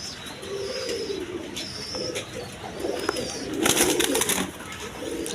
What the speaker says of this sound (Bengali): একদম সুস্থ সকল কবুতর